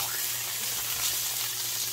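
Salmon seasoned with orange pepper sizzles and fries steadily in a pan just after being flipped, a close, continuous hiss with faint stirring noise and no talk.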